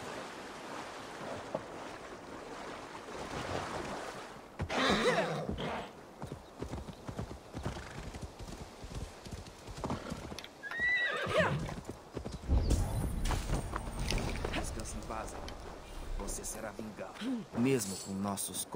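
Rhythmic clip-clop of a horse's hooves at a gallop, with a whinny, over game music and ambient noise in Assassin's Creed Valhalla; a voice talks at times.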